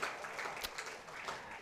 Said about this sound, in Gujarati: તાળીઓથી સ્વાગત હંમેશા દરેક આપણા પાસ્ટ પ્રેસિડેન્ટનું આપણે કરતા રહીએ